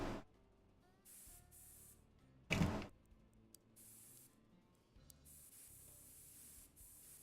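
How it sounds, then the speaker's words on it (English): A short, loud burst of spray paint hisses over a vehicle in the video game Crossout, briefly rising above a quiet background of game ambience. "Good old spray paint."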